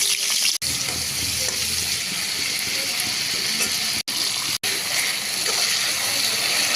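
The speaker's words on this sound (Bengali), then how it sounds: "টক দই দিয়ে ভালো করে মশলাটা কষিয়ে নেব" Spice masala with tomato and sour yogurt sautéing in a wok, a continuous close sizzle with soft stirring scrapes and a few brief cutouts.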